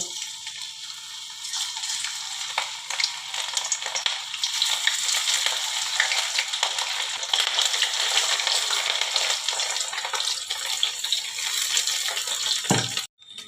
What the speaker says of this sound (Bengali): আমি সর্ষের তেল দিয়ে দিয়েছি তেলটা গরম হয়ে গেছে এবারে আমি মাছগুলো অল্প অল্প করে ছেড়ে দেব